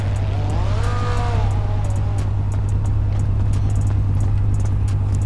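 Video game car engine in GTA roleplay, a steady low engine drone running throughout with a brief rising revving sweep near the start, no talk.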